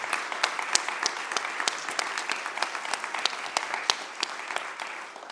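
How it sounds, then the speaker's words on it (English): Sustained applause from an audience at an award ceremony honoring winners and an award committee, steady crisp clapping throughout with a few sharper claps standing out, no voices. "Let's have one more round of applause for all of our winners and for the FACT2 Award Committee."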